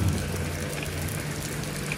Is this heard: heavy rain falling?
yes